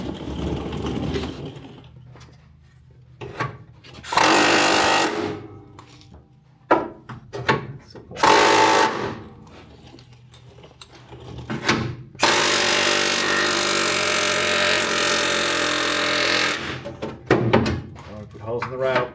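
Flat chisel hammered against spot welds on a Holden HG car body, with bursts of harsh metallic grinding and cutting noise alternating with sharp knocks and pauses, and someone talking between the bursts.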